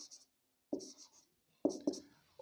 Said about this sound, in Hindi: तो इधर मैं लिख लेता हूं ए बी साइन थीटा